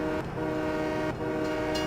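A train in the farming game Farming Simulator 17, set in the Pacific Northwest, gives a steady, loud rumbling drone with a sustained horn-like tonal hum running throughout, with no talking.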